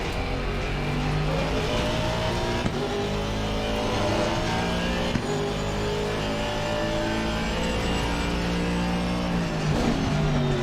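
Race cars in Assetto Corsa Competizione, including a new Audi, rev and accelerate close by, with engine notes climbing through the gears over a dense, steady roar.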